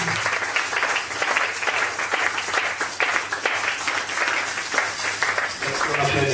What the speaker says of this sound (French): Est-ce qu'on peut applaudir pour la parole puissante?